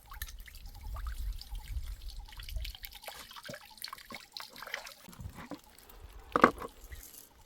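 Water trickles and drips while small freshwater fish are washed by hand. The sound is faint and uneven, with splashes and handling noises.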